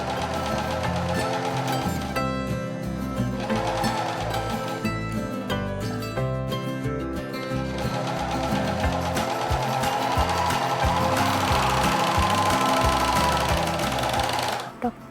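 An overlock serger sews shorts with two woolly nylon threads, its needles chattering in a fast, steady mechanical rhythm that slows and speeds slightly before stopping abruptly at the end, close and clear under faint background music.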